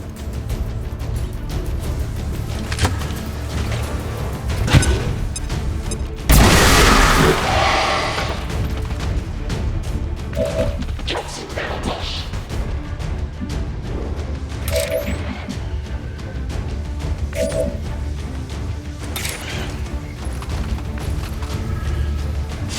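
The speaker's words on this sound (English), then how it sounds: "Throwing grenade!" Grenade blast in XCOM 2: War of the Chosen, one loud booming explosion with a long rumbling tail, set against steady game music.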